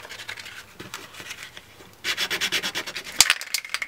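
A small wooden plectrum case is sanded flush by hand, soft scratchy rubbing at first, then brisk rhythmic strokes growing louder, ending with a few taps and rustles.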